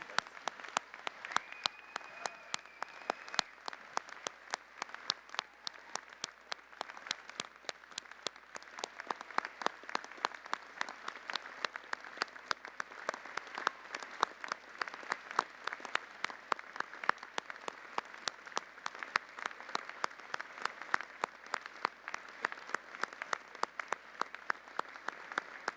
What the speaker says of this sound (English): give a huge round of applause to the people who supported you throughout it all